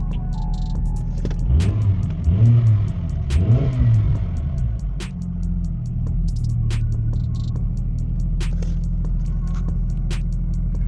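A 2009 Mini One 1.4 engine cranks and starts, with two quick rising revs early on before settling into a steady, close idle hum with light ticking on top.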